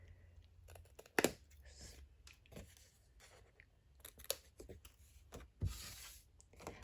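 Scissors snipping through 6x6 paper while cutting out lines for a mini gift box, with short crisp cuts and soft rustles spaced across a quiet tabletop setting.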